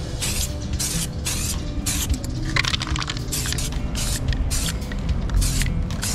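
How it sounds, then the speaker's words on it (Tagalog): A Samurai aerosol spray paint can hisses steadily onto motorcycle parts, a close, continuous spray broken by short pauses and bursts, with faint handling noise underneath. "Ang tamang pag-i-spray, mga 1 dangkal lang yung agwat."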